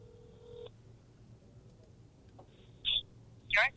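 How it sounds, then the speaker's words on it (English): Telephone dialing tones beep in short bursts at close range as a call is placed, with one longer tone first, then a pause and a few brief tones near the end. "let's make another phone call."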